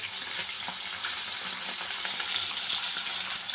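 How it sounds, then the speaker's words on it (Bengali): Pieces of hilsa fish fry lightly in hot oil, giving a continuous, close crackling sizzle at an even level with small pops throughout and no voices. "একদম ছেড়ে দেবো বেশি ভাজবো না হালকাই ভাজবো"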